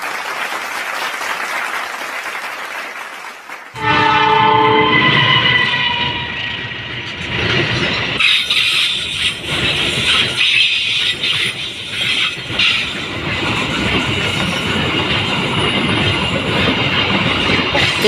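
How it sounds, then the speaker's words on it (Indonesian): A CC206 diesel locomotive hauling empty pallet and cement wagons passes close by, opening with a loud, tonal horn blast and then a sustained heavy rumble with rhythmic wheel clatter and squeal, loud and continuous. "ternyata yang lewat yaitu lokomotif CC206 yang membawa rangkaian kosong dan semen"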